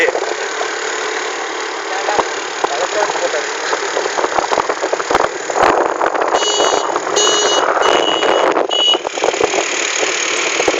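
A vehicle engine labours while driving down a steep mountain road, a loud, continuous rumble with rattles and clatter, under people talking.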